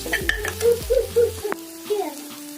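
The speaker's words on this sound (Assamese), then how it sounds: "মছলাখিনি ফ্ৰাই কৰি আছোঁ মছলাখিনি ধুনীয়াকৈ ফ্ৰাই হৈ গৈছে" Masala frying in oil in a pan for a rajma dish, with spoon-stirring scrapes and soft sizzling in short repeated strokes, close and moderately loud.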